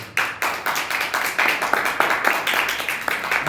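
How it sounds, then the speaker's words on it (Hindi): A church congregation at an anniversary service claps together in a fast, steady rhythm of close, sharp hand claps that carries on throughout. "हालेलुया, ताली बजाएं प्रभु के"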